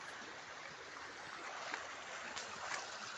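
A creek at the edge of a rural lot with mango trees sends up a steady, soft broadband rush of running water, even and continuous with a few faint splashes, and no voices over it.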